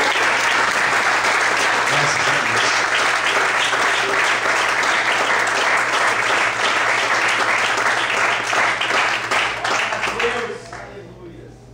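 A church congregation applauds loudly and steadily through a worship service, the dense clapping holding for about ten seconds before tapering off at the end, with a voice briefly speaking over it.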